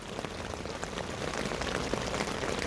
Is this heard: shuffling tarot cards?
no